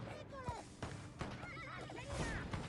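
Several horses neigh and whinny in a video game, overlapping whinnies rising and falling over a busy, steady background of battle noise with faint hoof clops, fairly loud and continuous throughout.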